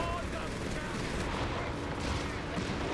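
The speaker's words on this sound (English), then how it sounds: "Heavy machine gun pinning down this elite infantry from our British player." Heavy machine gun fire rattles through a Company of Heroes 3 battle as it pins down elite infantry, blending into a dense, constant din of combat with commentators talking over it.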